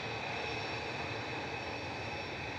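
A Brussels Airlines jet departing Manchester Airport in snowy weather produces a faint, steady, distant engine rumble with a constant high whine. It is heard alone, with no talking.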